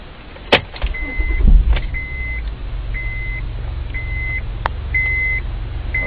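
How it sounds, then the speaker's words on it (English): A Honda Accord engine cranks and catches, then settles into a low, steady idle hum while short electronic beeps repeat at regular intervals. "Starting the car up."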